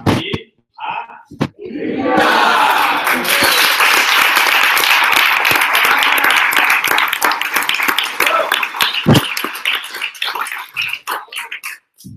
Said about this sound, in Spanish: Así que vamos a dar un aplauso desde aquí